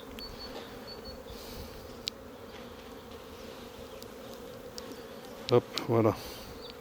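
Dense, steady buzzing of many honeybees close by at a hive, with a few soft clunks of handling and a brief spoken word near the end.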